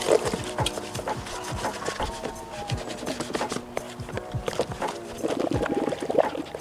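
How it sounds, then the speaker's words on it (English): Scrubbing a plastic coolant tank with a Scotch-Brite pad and Dawn dish detergent, with close, repeated wet rubbing strokes and sloshing water in an irregular rhythm throughout. "Now with our handy Scotch-Brite pad, let's give this thing a wash."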